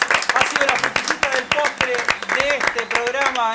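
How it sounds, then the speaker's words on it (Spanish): Studio audience clapping on a talk show, rapid loud hand claps that sit under lively voices talking throughout. "Un aplauso enorme."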